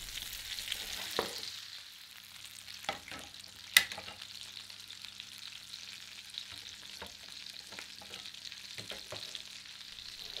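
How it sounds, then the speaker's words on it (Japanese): Andouillette sausage sears in a frying pan with a soft, steady sizzle throughout, broken by occasional clicks and knocks of the pan or utensil, one sharper clank near the middle. "表面をフライパンで焼き固めながらオーブンで芯まで熱くしていきます"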